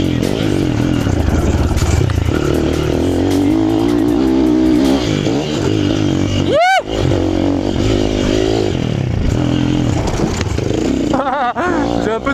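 A motocross bike tears around a dirt track and over jumps, its engine loud and close, revving hard throughout with a sharp rising whine mid-run and a second surge near the end.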